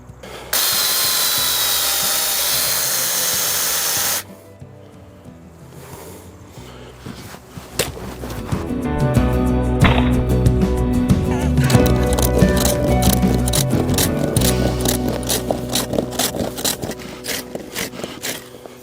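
A chainsaw sword's harsh whining motor buzzes with a rough, rattling grind for several seconds, pauses, then a chattering mechanical clatter builds and runs on steadily.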